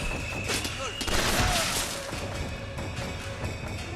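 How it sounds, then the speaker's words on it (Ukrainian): Rapid automatic gunfire from a weapon in the video game Bioshock Infinite: dense, fast-repeating shots that run continuously through the moment, loud and close, mixed with impact crashes and other game noise. "А тут швидкість пальби значно швидше."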